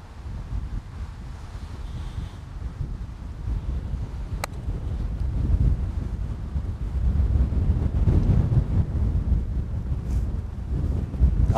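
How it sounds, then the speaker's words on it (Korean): Strong wind gusts across an outdoor golf course during a putting lesson, buffeting the microphone with low rumbling roar that swells and eases, with a faint brief click partway through; no one speaks. "지금 뭐 맞바람이 좀 많이, 옆바람이 불고 있죠"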